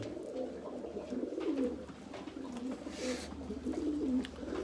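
Several pigeons coo steadily and close by, their low, rolling calls overlapping in a continuous murmur with no talking.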